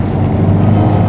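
A Volkswagen MK7 GTI tuned to Stage 2 pulls hard in fourth gear, its engine a loud, sustained droning roar heard from inside the car.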